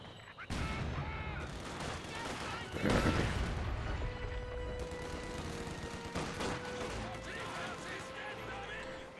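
A Katyusha rocket barrage in Company of Heroes 2, a loud rolling burst of launches and impacts with crackling explosions over several seconds, while someone commentates over it.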